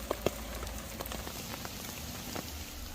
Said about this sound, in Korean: 비가 너무 많이 오네.